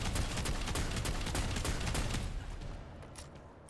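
Gunfire in the tabletop-style game Necromunda comes as a quick string of sharp, rapid shots over a dense crackling background, then fades away near the end.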